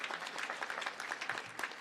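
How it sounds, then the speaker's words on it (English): Applause from an audience at a senior awards ceremony, a dense, continuous patter of many hands clapping at moderate volume. "Give them a round of applause"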